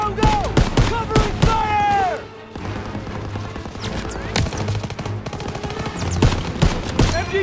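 Bursts of rifle and machine-gun fire crackle through a World War II battle in Call of Duty: WWII, with sharp overlapping shots and shouted voices over steady combat noise.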